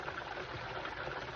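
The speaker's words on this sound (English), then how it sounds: "And I have a 1/2 cup of water I'm going to pour in" Half a cup of water poured in over seasoned chicken wings, a steady close trickling splash running evenly for the whole short moment with no talk.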